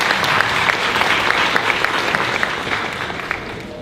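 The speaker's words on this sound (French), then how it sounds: "Applaudissez-vous s'il vous plaît." A conference audience at a Business Africa event in Paris applauds itself, a dense, steady wash of clapping at fairly loud level that slowly thins toward the end.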